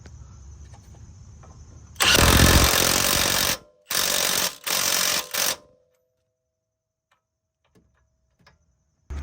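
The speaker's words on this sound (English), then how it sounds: "we're just going to tighten up this 19 right here and torque it down to spec" A power tool tightens a 19 mm nut on a G35 lower ball joint in loud, rattling impact bursts: one long burst followed by three shorter ones, then near silence with faint handling sounds.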